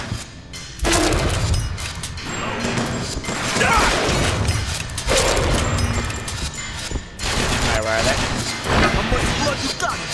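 Gunfire and crashing from the game BioShock Infinite: repeated loud bursts and shattering impacts in clusters, with a person talking over much of the action.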